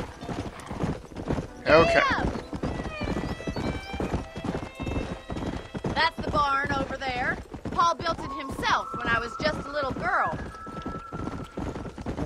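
Rhythmic clip-clop of a horse's hooves galloping in the Red Dead Redemption video game, steady and close throughout, with whinnies breaking in and a voice talking over the hoofbeats.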